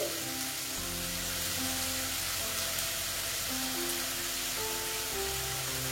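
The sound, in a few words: onion and garlic frying in pan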